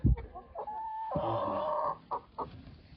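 An old hen gives a loud, sustained cackling call, one long drawn-out note followed by a few short clucks, close by in a farmyard.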